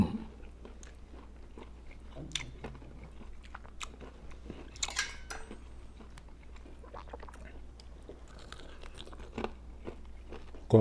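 Crispy fried garlic-pepper pork ribs get bitten and chewed up close, with repeated sharp crunches and softer chewing in a loose, irregular rhythm over a quiet background hum.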